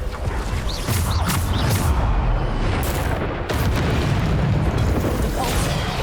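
A spell effect in Hogwarts Legacy hits with a deep, rumbling boom and crashing bursts. The sound is loud and close, with repeated heavy impacts over continuous background rumble.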